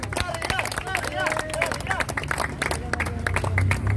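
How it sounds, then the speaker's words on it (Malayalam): A crowd claps and cheers in dense, uneven applause at a floodlit football penalty shootout prize ceremony in Kalloorkad, with voices and babble mixed in. "കൈയടിച്ചെന്ന് അഭിനന്ദിക്കാം."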